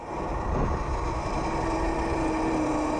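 An Oryxearth electric kids' mini bike runs at full throttle on its low speed setting, giving a steady, loud motor whine that holds at one pitch throughout.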